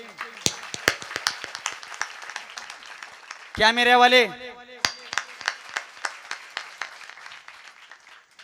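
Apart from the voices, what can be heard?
audience clapping, final round of applause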